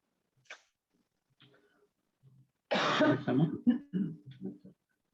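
Several bursts of coughing, a sharp one at first, then a heavy cluster of loud, rough coughs close by, ending with smaller throat noises.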